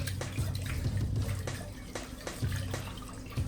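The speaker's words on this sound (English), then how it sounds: "now we're gonna wash it with water to clean the germs" Rice is rinsed with water in a bowl and stirred by hand, making close, continuous sloshing and swishing with small splashes and trickles, and no voices.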